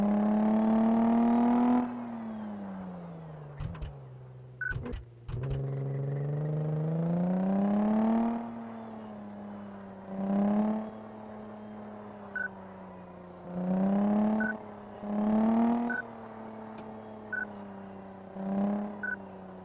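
A car in the video game Car Mechanic Simulator 2014 revs and accelerates hard, its engine tone sweeping upward through several gear changes with brief drops between shifts, loud and close with no talking.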